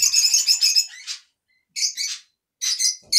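Budgerigar chicks in a cage chirp and squawk in bright, rapid bursts up close, with brief silent pauses between the flurries.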